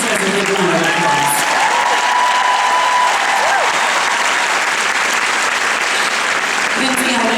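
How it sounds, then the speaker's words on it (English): Audience at a Mary Kay seminar breaks into loud, dense applause that fills the room and keeps going steadily, a few voices and cheers mixed in. "That deserves a big round of applause."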